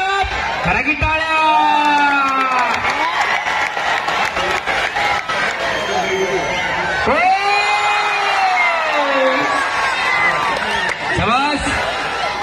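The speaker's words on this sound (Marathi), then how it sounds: "अरे बाप रे बाप, खरा की टाळ्या" A crowd applauds and cheers at a kusti wrestling bout between Dev Thapa and Pawan, steady and close, with excited commentary talking loudly over it the whole time.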